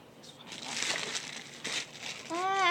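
Brown paper crumpled and crinkled by hand in a home kitchen while cooking, giving bursts of dry rustling close by, with people talking over it.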